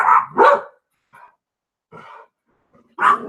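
A dog barks in a couple of sharp, close, loud bursts, falls quiet apart from faint yips, then lets out one more bark near the end.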